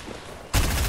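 Fortnite weapon gunfire erupts halfway through, a sudden loud, dense burst following a quieter stretch of game ambience, with no talking.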